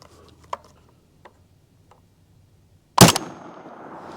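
A single 5.7x28 rifle shot from a 16-inch barrel is fired into ballistic gel: one sharp, loud crack followed by a short decaying echo, after a few quiet mechanical clicks and handling ticks.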